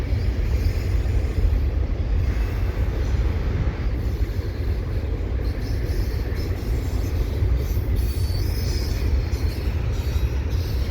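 A long CPKC freight train rolls by nearby at Dorval, a continuous low rumble and grinding of wheels on rails that holds steady the whole time.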